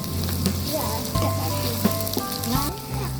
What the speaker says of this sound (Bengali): দারচিনি লং এলাচি দিয়ে দেবো, 2-3টা তেজপাতা দিয়ে দেবো। এখন আমি নাড়াচাড়া দিয়ে দেবো।